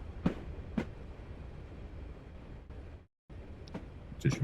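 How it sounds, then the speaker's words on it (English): Steady low rumble of a train rolling along rails on the West Highland Line in Train Simulator, with a few brief higher clicks and squeaks, a short dropout near the end, and no talking. "This train's not a stopper."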